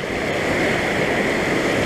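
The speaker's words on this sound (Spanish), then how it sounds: "el río hace una curva muy aguda, golpea eh, contra el paredón de roca" A river swings through a sharp bend and its current slams against a rock wall, making a dense, continuous roar of churning water, loud and close, with no talking.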